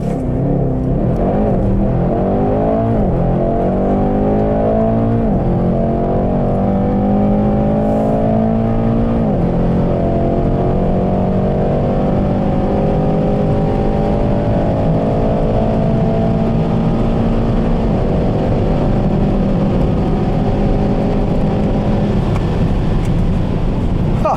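A 612 hp Mercedes E63S 4Matic estate launches hard under launch control, its engine roaring loud and close as it climbs steadily through several upshifts over a long sustained pull, heard from inside the car.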